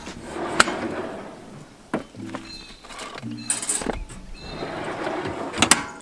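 Drawers in a camping storage unit slide open and shut with hollow wooden knocks and scrapes, several close bumps spread across the stretch, with no talk over them.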